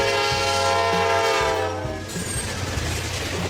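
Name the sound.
double-decker train passing with horn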